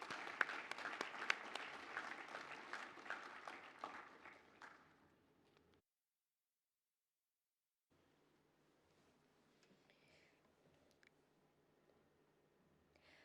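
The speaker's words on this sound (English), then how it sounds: "Let us give a round of applause to the graduates who have just been presented." A crowd applauds graduates at the University at Buffalo 2021 commencement ceremony, SIM session. Dense clapping fills the hall, fades out within about five seconds, then gives way to silence and faint room noise.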